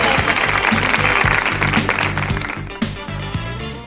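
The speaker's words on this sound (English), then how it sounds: "Give her a round of applause" Audience applause fills a 1990 summer image makeover presentation, a dense wash of clapping that starts loud and gradually thins toward the end, with a steady low musical tone running underneath.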